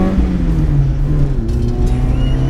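A Volkswagen Golf MK2 with Weber carburettors accelerates along a country B road, its engine droning loudly and steadily with a low, rising tone, heard from inside the car.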